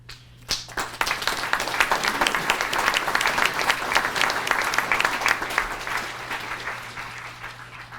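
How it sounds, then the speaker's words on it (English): An audience at a Veterans Day breakfast in Falmouth, held at the Flying Bridge, breaks into applause after a brief opening sound, loud and even clapping that gradually fades toward the end. "Now you know when to applaud."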